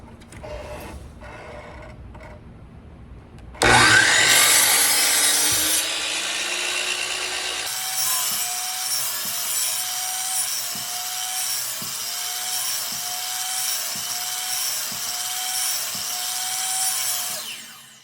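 A miter saw rips through a wood piece for a DIY wooden phone amplifier. The motor spins up sharply a few seconds in, then runs as a loud, steady, rasping cut that lasts to the end.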